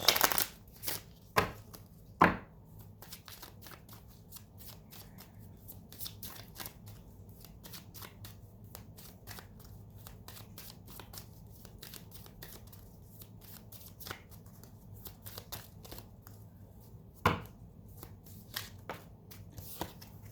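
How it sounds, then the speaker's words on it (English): Oracle cards from a Romance Angel deck are shuffled in quick riffling bursts, close and fairly quiet, with sharper flicks near the start and a few isolated card snaps later over a low room hum. "Pull from the Romance Angel cards for Sag."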